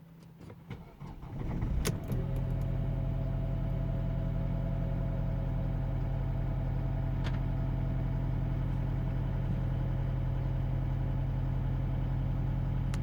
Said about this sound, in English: then we'll try to start the engine.